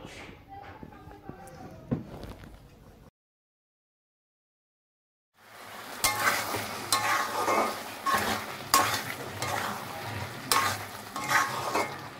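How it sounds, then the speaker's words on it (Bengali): Spice paste being stir-fried with peas in a pan: a brief clatter, a few seconds of silence, then steady loud sizzling with repeated scraping stirs. "আর এই মশলাটাকে আমি কষিয়ে নিচ্ছি"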